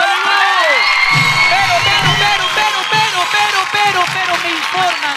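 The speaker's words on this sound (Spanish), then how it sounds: "¡Un aplauso para Calibú!" A lively crowd at a children's piñata party cheers, whoops and claps for Calibú, loud and close, with shrill children's shouts and voices layered over continuous applause.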